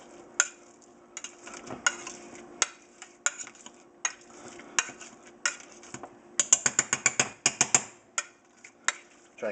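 Homemade jam fruit is pressed and scraped through a metal strainer, producing sharp, scratchy clicks and squelches in irregular bursts that quicken into a rapid run of strokes, close and clear with no talk.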